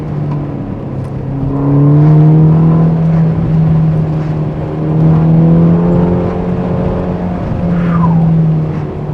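A Ferrari Portofino M sports car engine holds a steady, loud drone that swells and eases as it revs, with no talk over it.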